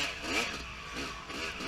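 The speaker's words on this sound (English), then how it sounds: "And I'm revving, I want to get going." Dirt bike engine revving during a hare scramble off-road race in New Hartford, a steady mid-pitched engine drone with rises and falls in throttle, close and continuous with no talk.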